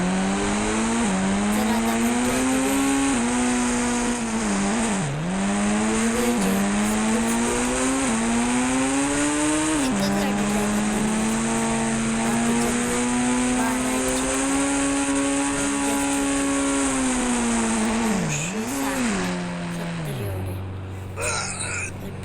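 A video-game racing car spawned by a cheat code drones continuously at high revs, its engine pitch rising and dipping through gear changes. The sound is loud and unbroken and cuts off near the end.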